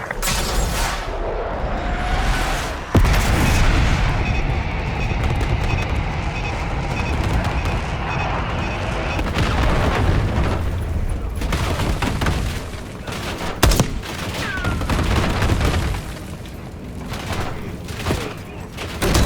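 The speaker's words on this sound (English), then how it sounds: "Call in the airstrike!" Airstrike explosions in Call of Duty Black Ops 6 come as heavy booms and crashing blasts over a continuous battlefield roar, with sharp hits standing out, and faint voices under the din.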